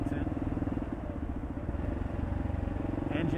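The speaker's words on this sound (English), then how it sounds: "Engine braking and no popping on D-cell, which is nice." A Kawasaki KLX motorcycle fitted with a needle kit engine-brakes on the road, its steady throbbing exhaust pulsing close and loud with no popping, while a voice talks over it.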